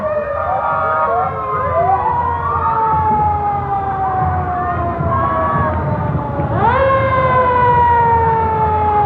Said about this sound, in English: You want to hear this siren in a parade, Jane.